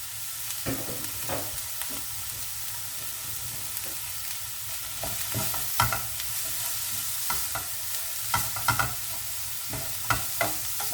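Grated carrot fries in a small amount of oil with a soft, steady sizzle while a utensil stirs it, making irregular scraping knocks and clatters against the pan, close up and with no speech.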